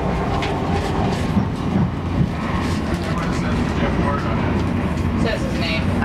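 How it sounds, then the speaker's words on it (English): Steady rumbling rattle of an Amtrak passenger train riding from Olympia to Portland, heard from inside the car, continuous and fairly loud with faint clacks and no break. "That's me riding the Amtrak train."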